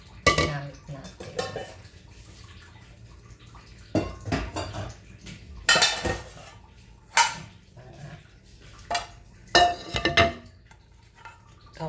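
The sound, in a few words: stacking used pots and frying pan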